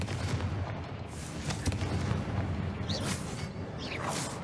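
Repeated fire-spell explosions from Hogwarts Legacy on PC, booming blasts and crackling bursts layered over a dense, continuous rumble of game noise, with sharp whooshing flares rising near the end.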